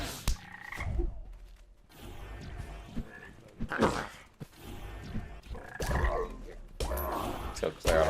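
Frogs croak repeatedly in a video game, loud bursts recurring every second or so over a constant game background, mixed with thumping combat hits and effects.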